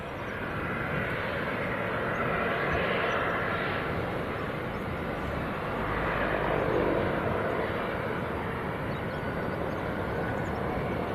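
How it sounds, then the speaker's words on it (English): A Jet2 passenger jet at Leeds Bradford Airport, heard as a steady, fairly distant broadband engine roar that swells slightly midway, with no speech over it. "This Jet 2 that Tom's looking at now, this is going to Parma."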